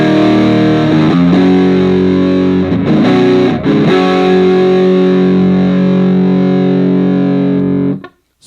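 Sustained distorted electric guitar chords from a Granville Nash Vegas guitar on the neck pickup ring out loudly, with a couple of brief strums changing the chord before the sound cuts off at the end.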